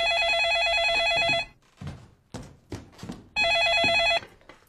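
An indoor landline telephone rings in a home, two long trilling bursts separated by a pause filled with soft knocks and movement.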